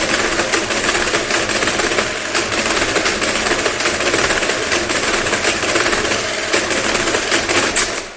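A Marchant mechanical calculator works through a division, its gears chattering in a loud, dense, rapid clatter like a machine gun that runs unbroken for several seconds and then stops, with no voices.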